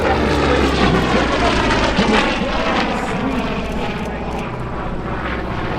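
An F4U Corsair propeller warbird makes a photo pass during an air show, its loud piston engine drone roaring steadily throughout, with faint talk beneath.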